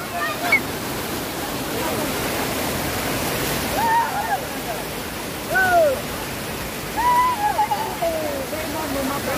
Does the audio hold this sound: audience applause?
no